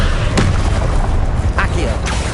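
Blasting-spell explosions from Confringo in Hogwarts Legacy, a few loud booms and sharp bursts over a continuous roar of fighting, with a voice calling out spells.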